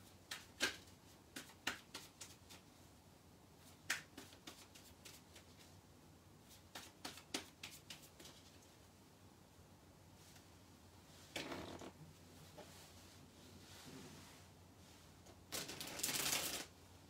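Tarot cards are shuffled by hand in quick riffled bursts, each a rapid flutter of soft snaps, with pauses between and a louder rustling shuffle near the end, close and quiet.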